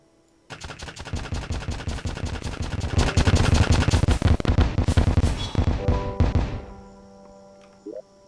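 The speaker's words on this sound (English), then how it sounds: "The Spiker converts musket balls into spikes that stick to enemies," Rapid bursts of gunfire from the Spiker gun in Terraria Calamity, a weapon that turns musket balls into sticky spikes that explode into shrapnel. The loud, dense volley builds steadily and then cuts off, leaving a brief faint tail.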